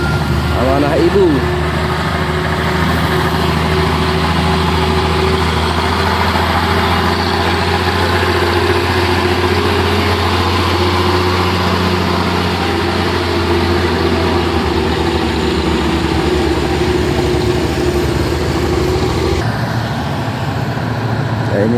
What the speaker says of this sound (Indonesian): ini dia satu unit truk trailer ya, Fuso Super Grid